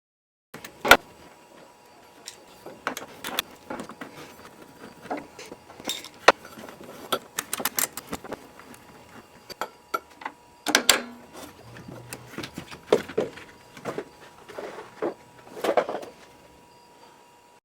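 Tools working loose the upper bolts holding the fan assembly to the radiator of a 1983 Porsche 944: irregular metallic clicks, ratcheting bursts and clanks, close by and fairly loud, with brief pauses between clusters.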